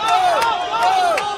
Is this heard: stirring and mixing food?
no